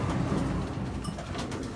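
Racing pigeons return to their loft after a Saturday race, cooing in a dense, steady murmur of low, overlapping coos that keep going through the whole moment at moderate volume.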